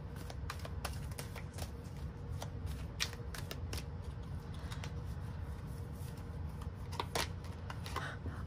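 A deck of oracle cards is shuffled in a quiet room, the cards giving soft riffling flutters and sharp little snaps at irregular intervals, close by and faint.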